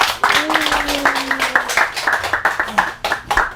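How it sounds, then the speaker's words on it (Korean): An audience at a unification lecture event welcomes a guest lecturer with hearty clapping, close and lively, the individual claps distinct and irregular, with some faint voices mixed in. "힘찬 박수로 모시겠습니다"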